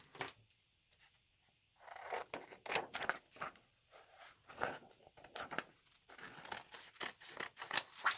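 Scissors cut through plastic film by hand in a series of crisp snips and sliding crunches, close and moderately loud, with short pauses between cuts.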